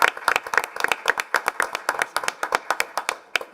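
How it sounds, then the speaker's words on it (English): Several people clap together in an irregular patter of sharp claps, close and lively, for a few seconds. "One more round of applause for our"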